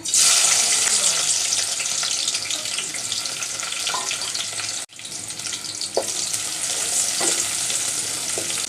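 Chopped onion and garlic fry with vegetables in a pan, a loud, steady sizzle broken by stirring and one brief dip near the middle.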